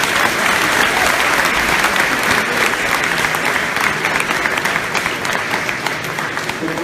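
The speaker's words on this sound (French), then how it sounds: "je pense qu'on peut applaudir encore une fois les donateurs" An audience at a talk on cryptocurrency investment claps steadily in a dense, even burst of applause that holds for several seconds and fades slightly toward the end, with no speech over it.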